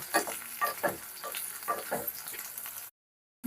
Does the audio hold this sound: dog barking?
no